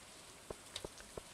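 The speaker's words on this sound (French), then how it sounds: "Donc là, c'est bien, il pleut." Rain in the farming game Stardew Valley, a faint, steady hiss with a few soft, scattered droplet ticks standing out.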